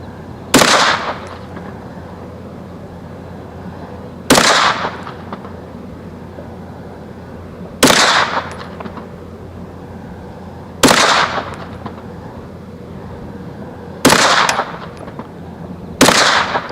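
A Canik TP9 SFX 9mm pistol fires at a shooting range, five sharp, loud single shots spaced about three to four seconds apart, each followed by a short decaying echo.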